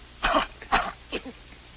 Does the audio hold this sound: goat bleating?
no